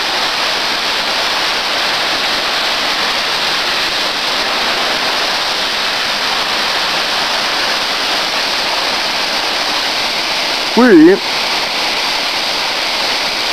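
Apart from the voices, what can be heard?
waterfall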